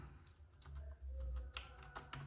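Keys clatter on a Zebronics wireless keyboard in a quick, uneven burst of close, crisp clicks and taps typing into a text editor, with no voices.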